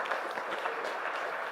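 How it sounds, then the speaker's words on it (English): Applause from a seated audience welcoming a speaker at a masterclass event, a dense, even wash of clapping heard from a distance and fairly quiet. "Could we give a giant round of applause?"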